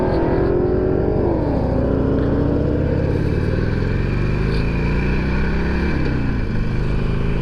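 Motorcycle engines droning loudly nearby, pitch rising and falling as they accelerate and pass along the road, with no voices.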